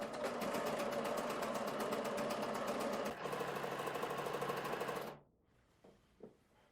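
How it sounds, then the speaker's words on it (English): A sewing machine stitches a facing onto wide-leg pants in a fast, steady run of needle strokes. It pauses briefly midway, resumes, then stops with a couple of soft clicks at the end. No voices are heard. "And now I can sew all of this together in one go."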